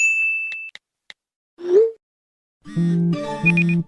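A phone notification ding plays in a Gacha Life animated movie: a sustained electronic tone, a few sharp clicks, a rising ding, then a loud, bright chiming melody to close.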